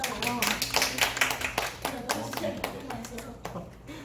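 A few people in a lecture audience clapping, distinct irregular hand claps at close range that thin out toward the end, with speech alongside.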